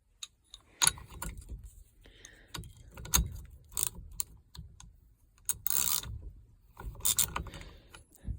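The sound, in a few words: standard wrench loosening a 13/16 bolt on 1978 GMC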